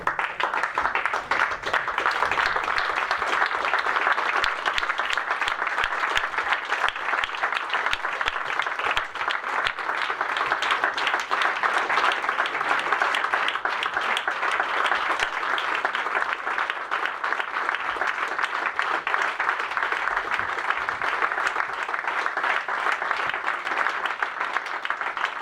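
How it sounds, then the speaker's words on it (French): Sustained, even applause from a room full of people at a community council meeting in Mont-de-Marsan, steady and dense clapping lasting throughout without pause. "je pense qu'on peut se lever pour t'applaudir"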